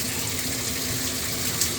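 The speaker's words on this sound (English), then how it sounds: "you can see the water coming down and completely sheeting off" Water poured from a cup down a waxed shower wall, a steady close splashing trickle that runs evenly for under two seconds without any voices.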